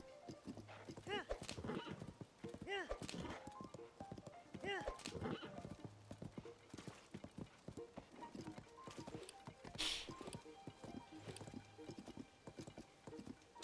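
A horse in The Legend of Zelda: Tears of the Kingdom gallops with rhythmic clip-clopping hooves and lets out several whinnies, with game music underneath and a person talking over it.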